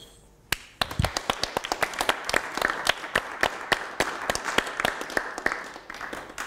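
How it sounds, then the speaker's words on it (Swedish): A small audience claps together in a meeting hall, the applause starting with a few sharp claps and building into a steady, moderately loud patter of many hands that continues to the end. "Jag tycker att vi ska ge oss själva en applåd"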